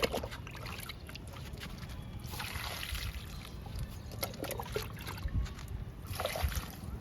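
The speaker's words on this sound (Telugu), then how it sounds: "ఇంకా మొక్కలకి ఇద్దాము లిక్విడ్." Liquid fertilizer poured onto potted plants outdoors: a soft, continuous trickle and splash of liquid, close but fairly quiet, over steady background hiss with a few faint knocks.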